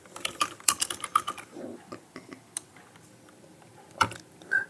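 Typing on a computer keyboard while building an Android app in Android Studio 4.0, heard as bursts of close, crisp key clicks with pauses between them and a final cluster of taps.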